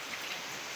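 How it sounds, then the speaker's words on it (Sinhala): Heavy rain pours down in a dense, steady hiss during an evening downpour at home, continuous and close with no voices. "මේ බලන්න යාළුවනේ මහා වැස්සක් අද."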